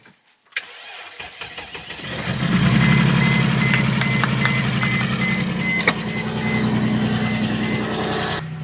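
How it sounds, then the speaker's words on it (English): A car engine cranks briefly, catches, and settles into a steady, close idle with a low rumble and a faint high whine. "we're gonna use the engine start function and see if I can get it fired up that way"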